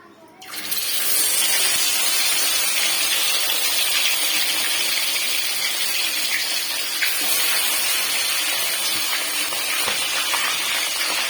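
Fish fry in hot oil in a wok, a loud continuous hiss and crackle that bursts in suddenly after a quiet first second and holds steady, with scattered pops throughout.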